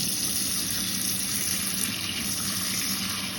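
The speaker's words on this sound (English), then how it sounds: "And you're just rinsing the sand off." Sea moss being rinsed of sand under a running tap, a steady close stream of water splashing into a sink, with no voices.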